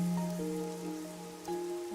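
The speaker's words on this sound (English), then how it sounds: "The rain, it never stops." Rain falls steadily in a video game, a constant soft hiss of drops on surfaces under sustained tonal music throughout.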